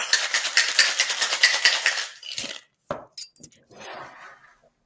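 Ice rattles hard and fast in a cocktail shaker for about two seconds, loud and close, before stopping, followed by a few clinks and brief handling noises.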